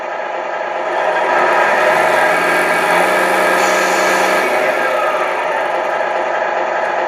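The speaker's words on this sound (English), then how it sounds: "Hear that nice, throaty American truck" A Tamiya MFC sound unit on a model truck plays a throaty American truck engine, starting after a brief quiet moment and then running as a loud, steady, gruff rumble with slight shifts in pitch.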